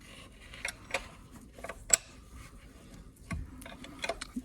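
A hand ratchet working a bolt on the belt tensioner of a Porsche 981 GT4 engine, giving scattered close metallic clicks in short bursts with pauses between.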